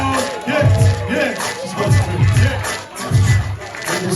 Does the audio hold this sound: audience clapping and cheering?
yes